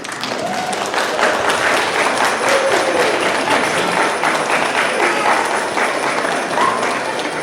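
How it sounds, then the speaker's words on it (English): An audience claps at the Montgomery Junior High 6th-grade winter band concert, a full, sustained round of applause filling the room at a steady level. "Kids, give your parents a round of applause,"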